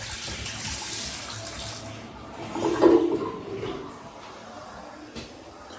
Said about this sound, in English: Toilets filling. It should just go up to that lever valve.